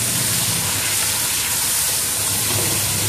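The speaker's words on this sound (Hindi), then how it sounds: "अब इसके अंदर टमाटर का पेस्ट ऐड कर देंगे, तकरीबन 1 कप आपने ऐड करना है इसको और इसके साथ इसको भूनेंगे" Tomato paste frying with chicken and chana dal for achari chicken gives a steady, dense sizzle and hiss that runs unbroken and fairly loud throughout, with no voices.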